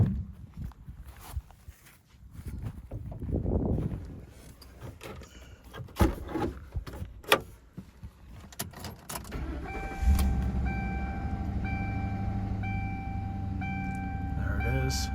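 A 1998–2012 Ford Crown Victoria is heard through footsteps and jangling keys, then the engine cranks and catches, settling into a steady close idle.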